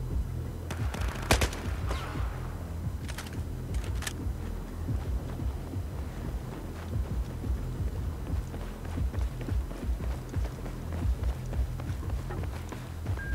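Rifle fire in Battlefield 4 multiplayer, scattered sharp shots with a few louder reports early on, over a busy bed of footsteps and battlefield clatter, moderately quiet overall.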